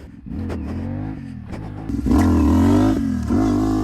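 A CFMOTO 450SS motorcycle drops from a wheelie and lands hard, a loud close engine drone rising in pitch with clattering thumps as the front wheel comes down.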